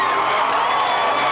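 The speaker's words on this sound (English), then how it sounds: "the crowd's hooping it up" Racetrack grandstand crowd cheering Jeff Gordon's new pole for the Coca-Cola 600, a loud, dense roar of cheers and whoops that holds steady and close throughout.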